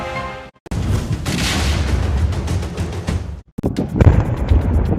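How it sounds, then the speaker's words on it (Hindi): A loud blast as a bridge is blown up in Donetsk, Ukraine, during the war: a sudden dense boom that rolls on as a rumbling roar, breaks off briefly, then returns with further heavy booming. "धमाके की आवाज आती है और धुएं और आग का बादल बन जाता है।"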